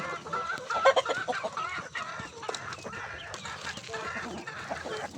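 Rhode Island chickens clucking steadily in their coop on a farm, a dense, continuous chorus of overlapping hen calls at close range with no voices over it.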